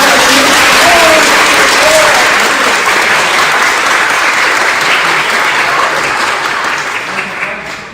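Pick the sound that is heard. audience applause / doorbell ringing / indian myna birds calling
audience applause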